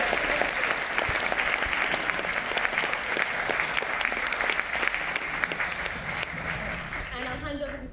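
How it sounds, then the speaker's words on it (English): An audience at a film festival event claps continuously, a dense sustained round of applause that tapers near the end. "Can we give him a big round of applause as well?"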